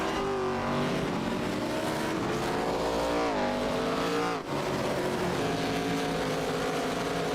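ARCA series race cars lapping Martinsville short track in iRacing, a steady loud chorus of droning engines whose pitch dips and rises through a corner, with faint tire noise and no talk.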